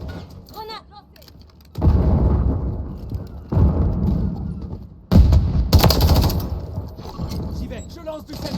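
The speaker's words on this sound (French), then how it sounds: "Grenade lancée." Call of Duty Modern Warfare III combat: a grenade launched, followed by loud blasts and bursts of gunfire in several heavy waves, with a voice speaking between them.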